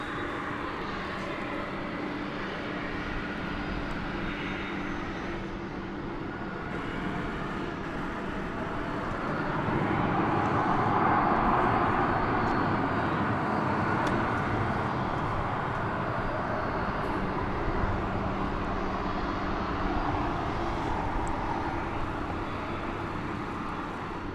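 An MD jet airliner on the runway at DFW airport at night produces a broad, steady engine roar that swells toward the middle as it draws nearer. The sound stays moderately distant and continuous, with no talking.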